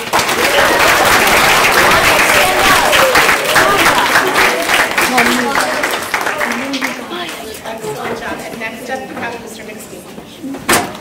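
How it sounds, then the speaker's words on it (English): A school audience gives a loud, sustained round of applause at a capstone presentation day, dense clapping that gradually thins and softens, with voices murmuring underneath toward the end. "Can we give them a round of applause, please?"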